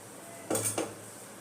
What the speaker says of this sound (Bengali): গ্যাসে আমি কড়াইটা বসিয়ে দিয়েছি, এর মধ্যে আমি সাদা তেল দিয়ে দেবো